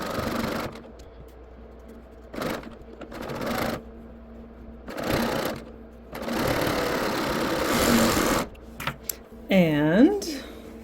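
A serger stitches through quilt fabric in several short bursts of fast mechanical whirring separated by pauses, up close, with someone talking between and over the runs.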